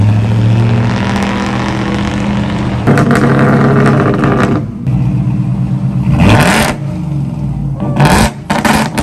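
A lifted Ford F150 pickup with a supercharger tune accelerates hard on a test drive, its engine roaring steadily with rising revs and a couple of harsh bursts near the end, loud and close throughout.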